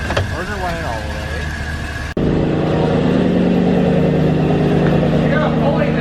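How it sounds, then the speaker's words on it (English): A van engine runs with a noisy pulley, a loud steady mechanical whine and hum with tonal ringing that kicks in abruptly partway through, with voices talking over the opening. "You got a pulley that sounds like hell"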